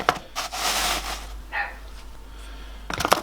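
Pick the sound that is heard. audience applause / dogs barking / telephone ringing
dogs barking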